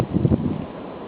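Gusty blizzard wind buffets the microphone at night as a Chicago snowstorm begins, a short rough rumble of low broadband noise, close and fairly loud, fading slightly toward the end.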